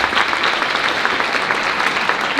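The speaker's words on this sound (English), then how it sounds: "let's give them a round of applause." A school band concert audience gives the band council a round of applause, a loud, dense burst of many hands clapping with steady intensity and no speech.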